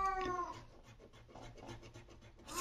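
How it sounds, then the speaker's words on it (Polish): A cat meows with a clear, drawn-out cry at the start, then fainter mewing sounds over a low background hum. The cat is close and alone, with no talk. "kot się odzywa"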